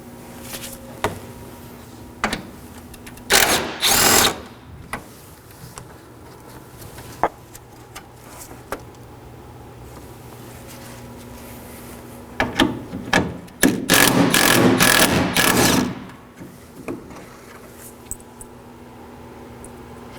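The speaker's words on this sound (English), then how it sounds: "Now I'm going to remove two 10mm bolts." Two 10mm bolts come out of the front grille cover of a 2013-2019 Nissan Sentra, heard as brief ratchet clicks followed by two louder, longer bursts of rapid close-up ratcheting.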